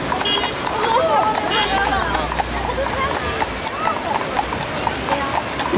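Horses' hooves clip-clop in a steady, brisk rhythm while a crowd murmurs and chatters in the background, in Kansas City at Christmas in 2001.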